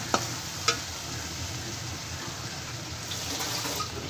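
Spice paste cooked down in oil in a pan, with a steady sizzle and a few sharp scraping strokes of stirring near the start, close and continuous with no talk.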